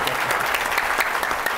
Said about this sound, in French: je voudrais les remercier. Je pense qu'une très bonne main d'applaudissement.